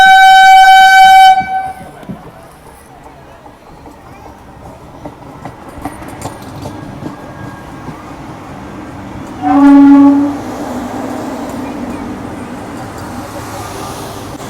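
A train slowly overtaking on an Indian railway line under a caution order, with a loud horn blast at the start, a continuous rolling rumble of wheels and carriages, and a second shorter horn partway through.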